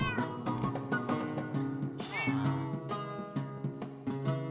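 Cats meowing in Minecraft, several short repeated mews over a steady backdrop of game music with sustained tones, close and moderately loud.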